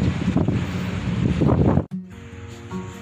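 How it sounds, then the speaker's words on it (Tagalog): Strong wind buffets the microphone in heavy, rumbling gusts, then cuts off abruptly, leaving a quieter hum. "Yung hangin napakalakas talaga, no?"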